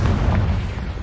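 A Confringo fire spell detonates in Hogwarts Legacy as a single heavy, rumbling explosion, loud and close, that fills the short moment with a deep boom.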